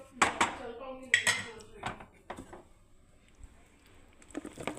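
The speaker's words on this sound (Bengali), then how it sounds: "এই দেখুন বন্ধুরা ফুলকপির সবজিটা এবার আমি নামিয়ে দেবো বন্ধুরা।" Metal pot of cauliflower curry being lifted off a home kitchen stove, with sharp clanks and clinks of the pot and utensils in scattered bursts, close and fairly quiet, a voice speaking in between.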